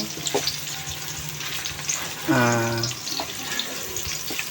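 Onions fry in a pan for pancit canton, a steady sizzle with light stirring clinks and a brief voice-like tone midway.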